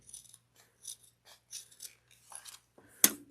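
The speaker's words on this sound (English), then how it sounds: "You're going to want to cut in, but not through your stitches." Scissors cut a V notch close to the stitches of a fabric wristlet, giving several short, quiet crisp snips in an irregular rhythm, close up, ending with one sharper louder snip and no talking.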